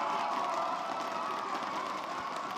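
Large esports arena crowd at a Valorant match roars in sustained cheering, a dense, steady wall of voices and applause throughout.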